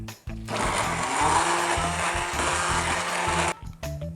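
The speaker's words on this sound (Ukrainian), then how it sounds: "Перебиваємо суп блендером до однорідної консистенції." A blender whirs loudly and steadily for about three seconds, pureeing a thick walnut cream soup, then cuts off abruptly.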